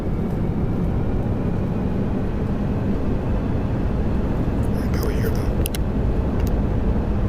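Fighter jet in VRChat with brakes released for a takeoff roll, a loud, steady engine roar filling the whole stretch without a break, with a few faint clicks near the end.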